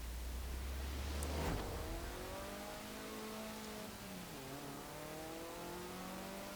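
A Mazda MX-5, about fifteen years old, races at night in the game Forza Horizon 4. Its engine drones steadily and climbs in pitch as it revs, with a continuous rushing noise underneath.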